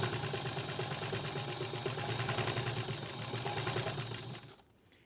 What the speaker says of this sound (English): now I'm just going to stitch it down